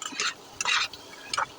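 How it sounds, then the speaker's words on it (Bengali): Eggs and potatoes stir-frying in oil in a pan, with a few short bursts of scraping and sizzling as the mixture is turned, separated by quieter gaps. "একটু কষিয়ে নেবো হালকা, বেশি নাড়াচাড়া করা যাবে না"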